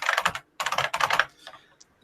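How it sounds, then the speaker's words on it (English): Fast, clacky typing on a vintage IBM mechanical keyboard, bursts of rapid keystrokes separated by short pauses, close and crisp. "I have a vintage IBM keyboard"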